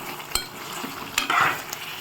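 Andhra-style chicken curry stirred in a pan as it simmers: a steady soft sizzle with a few sharp spoon scrapes and clinks against the pan, no voices.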